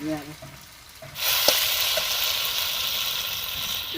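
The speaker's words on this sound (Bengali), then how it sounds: "আদা বাটাটা দিয়ে দিচ্ছি" Ginger paste hits a hot pan in a village kitchen and sets off a loud, steady sizzle that keeps going after a few soft knocks at the start.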